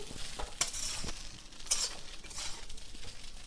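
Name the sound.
stirring chira (flattened rice) pulao in a pan after adding sugar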